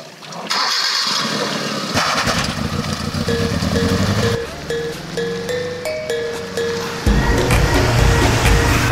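An engine starts and runs loud and close while a learner drives a manual-transmission vehicle, its revs rising and dropping unevenly with stalls of pitch and a brief lower idle before surging again.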